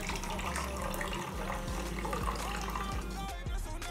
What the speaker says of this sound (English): You're gonna pour these into the next fourth of the cup.